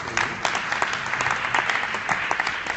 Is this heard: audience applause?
yes